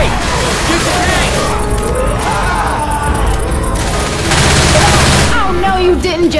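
Gunfire as survivors shoot the Tank in Left 4 Dead 2 on The Parish campaign, a loud dense barrage of shots and crashes mixed with game sounds and voices shouting throughout.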